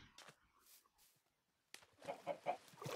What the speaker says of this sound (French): Oh, des poules.